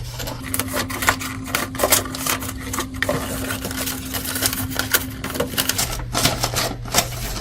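Adhesive tape pulled off a roll and pressed onto the inside of cardboard box flaps, giving close, crackly rips and quick tapping clicks over a faint steady hum.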